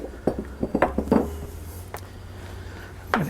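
A mixing bowl for brioche dough is handled on a counter, giving a burst of close clinks and knocks in the first second, then a couple of isolated taps with low background hum.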